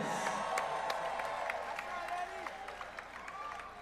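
A fight-night crowd cheers, whoops and applauds for two boxers in a cruiserweight bout, a dense roar of clapping and shouts that fades slightly over a few seconds.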